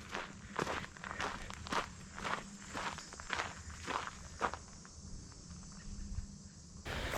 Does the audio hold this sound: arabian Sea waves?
no